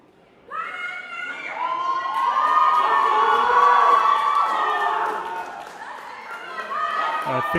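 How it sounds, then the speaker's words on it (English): Crowd at a junior powerlifting championship in the Emirates cheering and shouting loudly during a heavy deadlift, a sustained swell of voices that builds and then eases. "I think you guys can hear the crowd."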